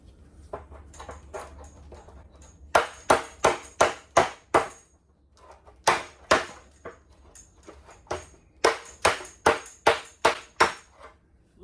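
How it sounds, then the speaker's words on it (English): Sharp metallic hammer strikes on a bent 1972 VW Super Beetle fender in quick bursts of four to six blows, separated by short pauses, close and loud. "I'm going to hammer it back into place"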